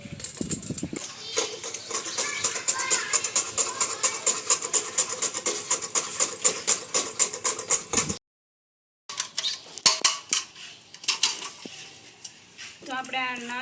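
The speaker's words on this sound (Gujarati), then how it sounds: "આપણે આવી જ રીતના બધું જ ટોપરું ખમણી લેવાનું છે" Coconut grated by hand in a village kitchen for a sweet, heard as a fast, regular run of close, sharp scraping strokes that stop briefly, then resume more irregularly.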